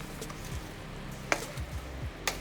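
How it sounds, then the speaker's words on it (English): Pork fried rice with sesame seed oil stirred in a hot pan: a soft continuous sizzle with a few sharp scrapes and taps, close by and without talking. "Mix these two ingredients inside the rice and then start stirring it from bottom up"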